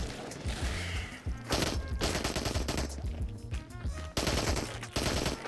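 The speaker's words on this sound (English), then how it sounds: "27 bullets, full auto." Full-auto pistol fire in the VR shooter Into the Radius, a 27-round magazine emptied in loud sustained bursts with short pauses between them, backed by dense game sound and music.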